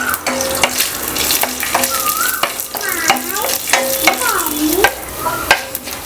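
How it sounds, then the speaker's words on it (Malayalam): Mustard seeds, chilli and urad dal stirred in a hot pan for poha upma, a steady sizzle with repeated scraping strokes of a spoon against the pan, close and clear. "ഇത് നന്നായിട്ടൊന്ന് മിക്സ് ചെയ്തെടുക്കാം."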